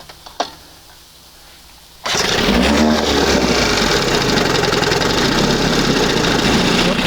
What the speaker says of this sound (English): She's starting down there, she's idling down there, shifting down there.